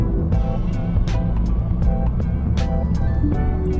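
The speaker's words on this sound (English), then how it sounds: "So now I'm in 7th gear, just cruising." A modified Honda Fit GP4 Hybrid RS cruises in its simulated seventh CVT ratio, giving a steady, close cabin drone of engine and road noise that stays even throughout with no pauses.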